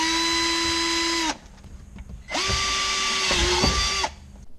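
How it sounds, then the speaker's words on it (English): A power drill bores a hole for car audio cable in a Nissan 370Z, whining loudly and close in two sustained bursts with a short pause between them. No voices. "You only want to drill a hole that's going to be large enough to be able to feed the cable through."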